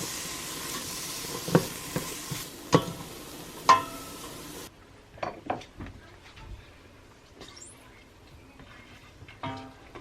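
Onions, celery and carrots softening in butter with salt and pepper in a pan, a low sizzle under intermittent utensil clinks and scrapes that grows quieter partway through.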